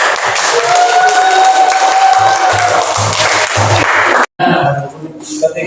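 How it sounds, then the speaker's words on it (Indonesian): A class of students claps together in a classroom, a loud continuous burst of applause for about four seconds that cuts off abruptly, followed by a few scattered sounds and voices. "Tadi beri tepuk tangan."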